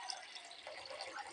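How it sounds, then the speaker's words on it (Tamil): Water poured into a pan to make sugar syrup for potato gulab jamun, a faint, steady splashing hiss heard close up and alone. "தண்ணி ஆட் பண்ணிக்கலாம்."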